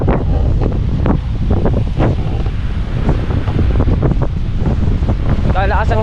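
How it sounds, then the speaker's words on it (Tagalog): Strong wind blows hard at the shore, roaring steadily into the microphone with crashing surf beneath and faint voices mixed in. "Kalakas ang hangin na."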